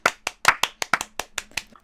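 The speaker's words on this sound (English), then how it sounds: "Let's give a round of applause." About ten sharp, separate hand claps, close and fairly loud in an uneven rhythm, from a small group on a gaming podcast, with no talking over them.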